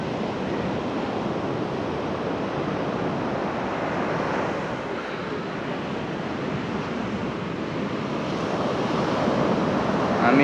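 Surf breaks steadily on a quiet, uncrowded Kerala beach where waves wash across the sand toward a river, a continuous loud roaring wash close by with wind buffeting the microphone and a swell building near the end.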